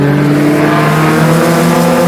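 Mini stock race cars lapping the oval at Flamboro Speedway make a loud, continuous engine roar that stays steady and close throughout.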